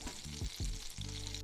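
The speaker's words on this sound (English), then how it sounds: "Browning the butter." Butter browns in a pan with a steady close sizzle and frying crackle, joined by a few brief scraping stirs, with no voices.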